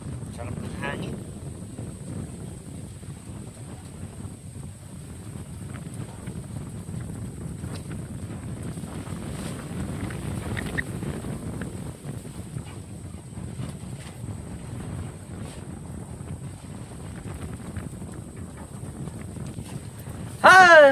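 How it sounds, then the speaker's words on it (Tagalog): Strong outdoor wind buffets the microphone in a steady low rumble for the whole stretch, with faint background sounds beneath and a brief louder burst at the very end. "Nandito po kami dahil malakas yung hangin."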